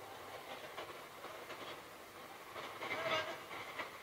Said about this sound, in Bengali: ট্রেন আসলে এমন একটা শব্দ হয়